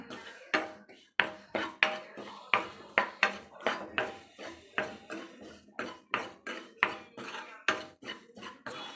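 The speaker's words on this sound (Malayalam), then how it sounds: "അതിനെ നന്നായിട്ടൊന്ന് മൂപ്പിച്ചെടുക്കുകയാണ്" Rapid metallic clinks and scrapes of a utensil against a pan as spices are roasted for pumpkin curry, steady and repeated, close by, with a faint sizzle underneath.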